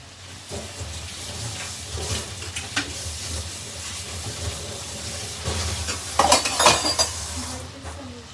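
Capsicum stir-fried in a pan for a home dinner: a steady sizzle with scraping spoon strokes and clinks of utensils against the pan, growing busier and louder toward the end, no talking.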